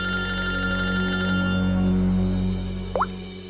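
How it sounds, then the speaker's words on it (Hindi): A telephone rings in a TV crime drama scene, a loud steady electronic ring sustained for several seconds before cutting off, with no talking. "हॉस्पिटल से फोन था"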